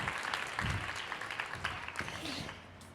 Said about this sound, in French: je voudrais qu'on applaudisse Maj